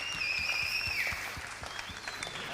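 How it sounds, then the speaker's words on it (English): An audience claps for a conference panel, a steady wash of applause heard at moderate distance, with a faint whistle running through it and no speech. "so let's give them a hand of applause"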